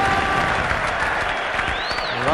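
A cricket crowd at Sydney during a 1979/80 Benson & Hedges match between Australia and the West Indies breaks into broad, distant applause and cheering after a boundary, with a commentator speaking over it.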